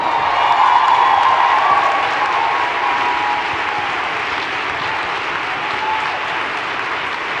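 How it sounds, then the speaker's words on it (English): Sustained audience applause at the Women in the World ceremony honoring Toyota Mothers of Invention, a dense, steady wash of clapping from a large crowd that fades slightly after the first two seconds. "Please give them all another round of applause."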